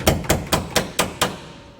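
Hammer blows ring out while a Super Cub wing is being mounted, six evenly spaced sharp strikes close by in steady rhythm.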